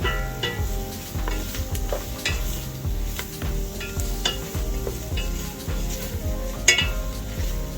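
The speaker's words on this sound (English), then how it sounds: "And next I'm going to add my okra." Sliced okra sizzles in a gumbo pot over medium heat while a utensil scrapes and stirs it in a steady rhythmic pattern, with occasional metallic clinks against the pot.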